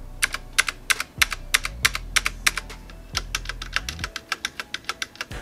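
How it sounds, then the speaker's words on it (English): Z-88 mechanical keyboard typing close up, a steady run of sharp individual keystrokes with several low thumps, comparing clicky blue switches against quieter red switches, with no talking. "here's a quick sound test to show you the difference between a blue and a red keystroke."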